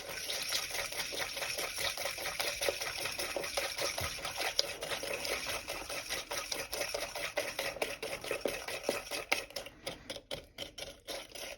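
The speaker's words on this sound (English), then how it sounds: "And you're going to whisk it. If you have a magic whisk, it will take you a lot less time." A magic whisk beats gluten-free brownie batter in a bowl, making a fast, steady run of close, light clicking strokes that continues without a break.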